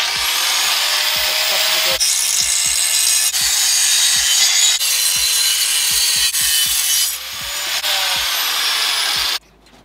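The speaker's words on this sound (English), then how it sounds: "So I've had to come back to the boat to use the grinder on this bracket." On a boat, an angle grinder grinds steadily and loudly against a metal bracket, its harsh whine broken by short pauses and shifts in pressure before cutting off near the end.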